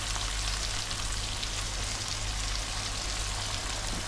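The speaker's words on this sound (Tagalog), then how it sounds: "Gigisahin ko lang siya ng mga 2 minutes bago tayo mag-add ng tubig" Okra and pork sauté in a pan with patis and ginger, making a loud, continuous sizzle and crackle like steady rain that stays even from start to finish.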